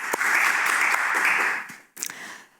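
A single person clapping briskly for about a second and a half, close by, then a short pause and a few more claps at the end.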